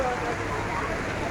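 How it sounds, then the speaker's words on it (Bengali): Rain falls at the Mahesh Colony vegetable market in Serampore, Hooghly, late on a Sunday morning, a steady, dense hiss of drops that fills the short stretch evenly. "11:30 বাজে বৃষ্টি পড়ছে"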